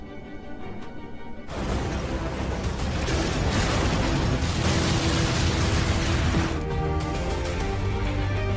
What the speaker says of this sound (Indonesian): tiba-tiba restoran itu pun meledak